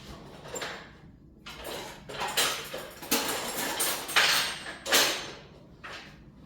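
Kitchen utensils clatter and scrape as a small spatula is fished out from among them, a run of close metallic rattles and clinks in uneven bursts.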